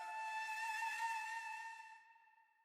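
A Fluterun flute sample from Splice, a breathy, airy flute tone holding steady pitches with bright harmonics, fairly quiet and alone, fading out over the last half second.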